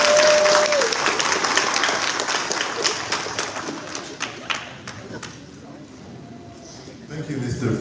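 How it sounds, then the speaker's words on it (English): A crowd applauds loudly at a Garifuna Settlement Day Mass in Los Angeles, the clapping thinning out gradually and tapering toward the end, with a voice briefly audible beneath. "Give yourselves a nice round of applause."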